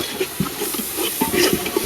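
Fish curry masala being stirred in a pan, a brief sequence of soft scraping, squelching strokes over a low sizzle, close up.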